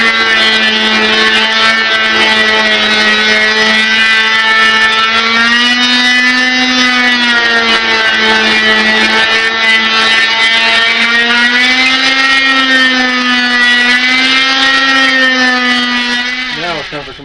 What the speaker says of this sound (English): Because you can't fit the sander inside your project, you can only do the outside.